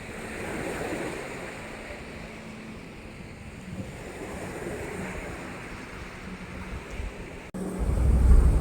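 Sea waves wash onto a sandy beach in a steady, continuous surf roar with gusts of wind buffeting the microphone, growing louder near the end; no one speaks.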